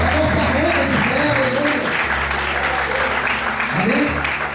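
A church congregation bursts into loud, sustained applause that fills the hall, a dense steady clapping with a voice calling out over it.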